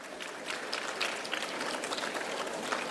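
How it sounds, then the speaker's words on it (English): Steady, fairly faint applause from an audience at a Teachers' Day celebration, continuous dense clapping with no voices on top. "Give them a round of applause."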